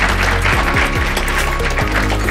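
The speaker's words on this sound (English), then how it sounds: "let's give the legislators a round of applause for being here today" An audience at a 2021 Campbell County Chamber of Commerce Eggs & Issues event applauds the legislators with loud, steady, dense clapping that fills the whole stretch.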